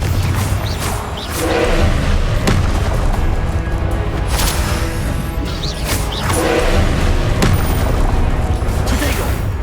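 Explosive spell blasts in the Hogwarts Legacy video game: several loud booming impacts with crashing debris over a dense, continuous battle din, the bursts recurring every few seconds.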